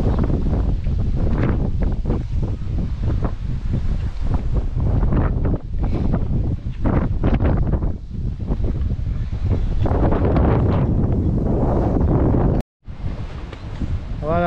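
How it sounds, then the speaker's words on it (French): Strong gusts of wind buffet the microphone with heavy low rumbling at a float tube fishing competition on the Vilaine river, while a person speaks French intermittently underneath; a brief dropout occurs near the end. "il y a beaucoup de vent, j'espère qu'on va m'entendre, il y a beaucoup de vent"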